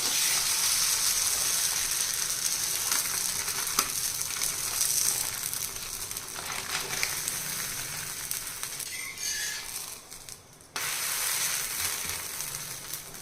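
A wheat-semolina bobbatlu flatbread cooking on a hot griddle, with a soft, continuous sizzle and occasional scraping as it is lifted off, heard alone without talk.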